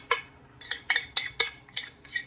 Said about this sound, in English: you just take a spoon, just evenly spread it up top